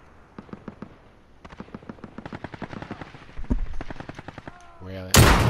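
Rapid bursts of automatic gunfire crackle in a video game, starting faint and growing denser and louder toward a final heavy blast, while players talk over it.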